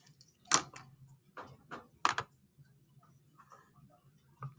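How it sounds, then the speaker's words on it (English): Calculator keys are pressed as someone types in a calculation, producing a few sharp, separate plastic clicks spaced irregularly, close and quiet against a soft background. "when I type that into a calculator"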